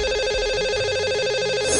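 A telephone rings out while a call is placed to a lucky caller on a radio or TV show, a loud, steady, warbling ring tone repeating without pause and with no talking over it.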